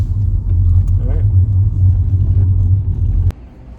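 Steady low rumble of a car engine heard from inside while driving, loud and continuous with a faint whine riding on top, then dropping sharply in level near the end.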